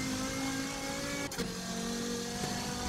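A race car coasting and braking in the video game Forza Motorsport 7, a steady engine and drivetrain whine with shifting tones and a brief dip as the car slows, no voices.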